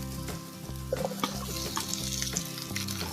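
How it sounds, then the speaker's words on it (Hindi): Onion with ginger, garlic and green chili sautéing in hot oil for potato Manchurian, a steady crackling sizzle broken by repeated spatula scrapes and taps against the pan. "अब इसमें हम अनियन डालेंगे।"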